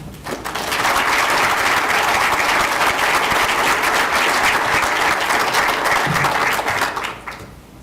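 A large audience breaks into loud, sustained applause at a Hall of Heroes induction ceremony for a Sergeant First Class, rising quickly, holding steady for about six seconds and then fading out. No one speaks.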